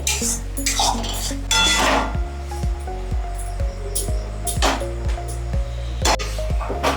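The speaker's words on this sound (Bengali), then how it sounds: "এটা সমানে এরকম নাড়তে থাকতে হবে, নয়তো কড়াইতে লেগে যাবে" A metal spatula scrapes and clanks against a kadai while food is stirred as the water cooks off, giving repeated ringing metallic knocks and scrapes at an irregular, brisk rhythm.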